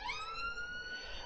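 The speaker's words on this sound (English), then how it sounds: "Oh yeah, sorry, ambulances, standard." An ambulance siren wails in the background in Birmingham, a faint sustained tone sweeping slowly in pitch, heard alone without talk.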